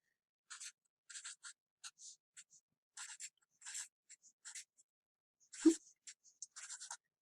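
Pen writing judges' scores on paper, a string of short close scratchy strokes with pauses between them and one louder tap near the end, no talking.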